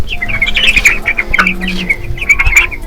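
Broiler chicks in a poultry farm enclosure chirping in a rapid, overlapping chorus of high peeps, close and continuous over faint background noise.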